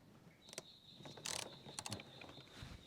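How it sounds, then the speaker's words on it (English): A wrench breaks loose a tight 10 mm screw inside a Toyota Tacoma, producing faint, close ratcheting clicks and short metallic scrapes in irregular bursts over a thin steady whine. "There's a screw there, 10 millimeter again. So I've grabbed a bigger wrench because those are pretty tight."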